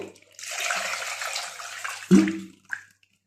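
Cold water is poured into whisked curd for buttermilk, a short steady splashing stream followed by a brief gurgle and a small final splash, then quiet.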